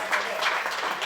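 Audience applause welcoming guests at a film tribute event, a steady wash of clapping at moderate level throughout the brief moment.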